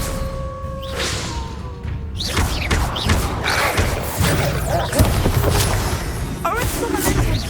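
Spell effects from the Hogwarts Legacy video game, with the Expelliarmus disarming charm cast during a fast fight: a dense stream of heavy thuds, whooshing bursts and crashing impacts, loud and nearly continuous, with no pauses between hits.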